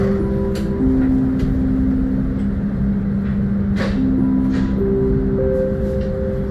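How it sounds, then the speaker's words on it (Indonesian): Mutiara Selatan passenger train rolling along the rails, a steady low rumble with sustained humming tones and occasional brief clanks, continuous and fairly loud throughout. "sesaat lagi kereta api Mutiara Selatan akan tiba di stasiun Tasikmalaya"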